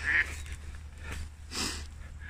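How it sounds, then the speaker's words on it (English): Ducks on the water outdoors giving a few short quacks, one sharp call at the start and another about a second later, moderately close over low wind rumble. "I don't know if it's a flotilla of ducks or just a couple on them."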